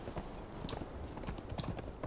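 Rhythmic clip-clop of horse hooves in Conan Exiles at a steady walking pace, moderately close, with no voices.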